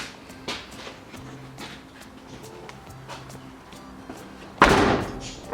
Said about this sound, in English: And the door actually closes.